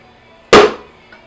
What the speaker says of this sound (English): So just make a little punch hole right here.